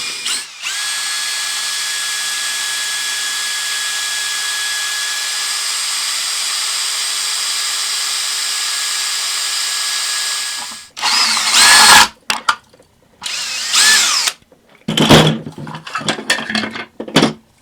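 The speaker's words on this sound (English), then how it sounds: "I'm going to try to do it this way and just drill this out" A power drill drilling out a metal pin in an old Tomy game runs steadily and loudly for about ten seconds, then grinds in several short, uneven bursts with brief pauses between them.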